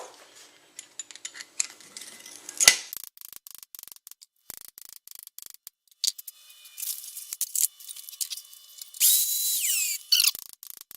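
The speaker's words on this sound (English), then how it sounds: "I think the sharper one's going to drill faster, but I don't think it's going to make a very good hole." A power drill with a carbide-tipped 3/8-inch rock bit bores in uneven bursts, sharp high whines and rattling clicks stopping and starting, louder near the end.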